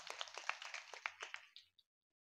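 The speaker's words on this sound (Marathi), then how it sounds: "त्यासाठी तुमच्या सर्व टाळ्या वाजवा." Audience clapping at a Ganesh Chaturthi kirtan, a short burst of scattered handclaps from a crowd that thins out and stops after under two seconds, moderately loud with no talk.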